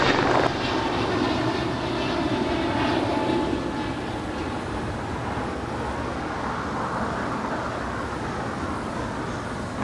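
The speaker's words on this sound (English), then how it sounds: "That is United Airlines Flight 355 coming in from Austin, Texas in an A320." A United Airlines Airbus A320 arriving at LAX from Austin, its engines a steady, broad roar that holds fairly level for ten seconds, heard from a spotting position near the runway with no talk.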